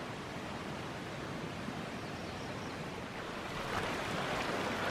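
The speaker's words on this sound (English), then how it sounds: "it's pretty swollen, but got this beautiful creek here" A swollen mountain creek rushes past a campsite beside a meadow, a steady broad wash of flowing water that swells slightly louder toward the end, with no voices.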